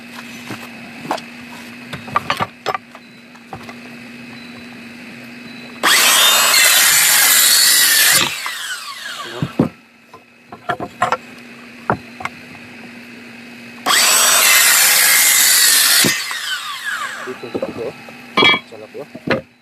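A circular saw whines through solid wood boards for a bed frame in two loud bursts of a couple of seconds each. Between the cuts someone speaks over knocks and handling of the lumber.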